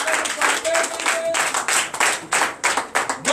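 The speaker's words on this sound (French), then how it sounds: "Donc je vous demande d'applaudir." A church congregation at a Sunday worship service in Benin claps rhythmically in distinct bursts, with voices mixed in among the beats.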